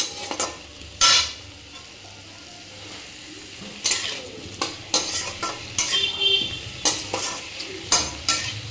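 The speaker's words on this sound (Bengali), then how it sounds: "ওটাকে নুন হলুদ দিয়ে তেলের মধ্যে দিয়ে প্রথমে ভালো করে ভেজে নিতে হবে।" White oyster mushrooms fry in hot oil with salt and turmeric, a steady close sizzle broken by repeated loud clattering stirs and scrapes of a spatula against the pan.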